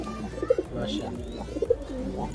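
Fancy pigeons cooing in a loft, soft low repeated coos with a few brief chirps nearby, under a continuous murmur of background voices.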